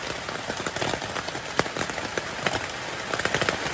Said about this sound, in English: it's 9:30 and it's raining and thundering.